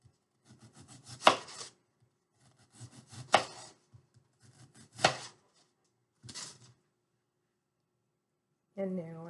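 A knife slices through an onion on a cutting board in four or five distinct chopping strokes with pauses between, close and fairly clear; a brief voice is heard at the end.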